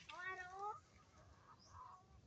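Chickens cluck and squawk in a rural provincial yard, one bird's sharp, rising calls standing out early before softer clucks follow, all faint and close-miked.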